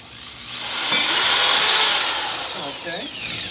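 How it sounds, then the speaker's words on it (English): A power drill bores a hole through the bottom of a container for an aquaponics setup, a steady whine that rises in a little under a second and holds close and loud before easing off, with a brief change in pitch near the end. "So we're going to take a drill here. We're going to go ahead and drill the bottom real fast."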